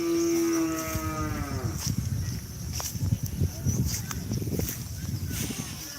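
A large bull at a cattle-racing training ground in Asemanis, Pamekasan, lets out one long, loud moo, followed by shuffling hooves and outdoor bustle.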